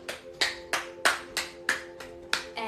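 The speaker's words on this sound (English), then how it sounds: "Okay, let's clap our hands. And I like to clap your hands around my body." Hands clap around the body during a fascial movement class, eight quick, close, slightly uneven claps in a steady run, bright and snappy over a faint room hum.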